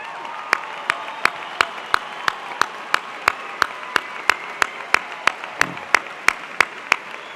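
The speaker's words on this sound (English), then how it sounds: "Students, please give your parents a round of applause." At the Ronald Reagan High School class of 2008 graduation ceremony, students applaud their parents. Sharp, evenly spaced claps in a steady unison rhythm ring out over a softer bed of crowd clapping and murmur.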